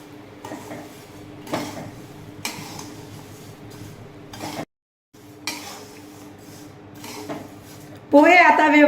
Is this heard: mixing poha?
yes